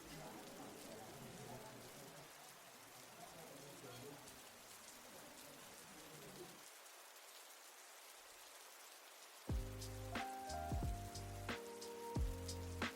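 Rain ambience from an online ambient sound mixer, a faint, steady patter of rainfall over a long stretch, later joined by tonal music-like sounds.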